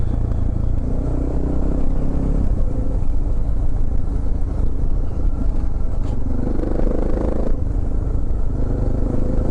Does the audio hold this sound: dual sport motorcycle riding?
yes